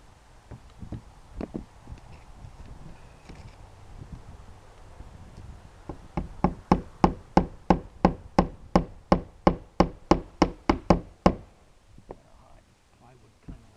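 A hammer drives nails into the bouncy plywood and tar paper of a shed roof, with scattered taps and then a rapid run of about twenty sharp, evenly spaced strikes, loud and close, before it stops.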